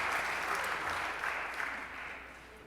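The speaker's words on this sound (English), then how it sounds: "Let's give them a round of applause." A room of club members at a Rotary meeting breaks into steady applause for birthdays, a dense even clatter of clapping that fades slightly toward the end, with no talking.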